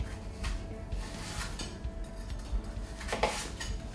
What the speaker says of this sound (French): Allez, on coupe les pommes.